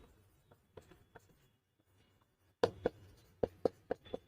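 Chalk or pen taps and scratches on a board or paper, faint scattered strokes at first, then a sharper run of distinct tapping marks, with no voices.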